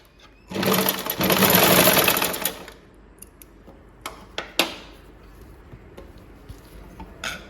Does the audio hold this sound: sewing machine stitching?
yes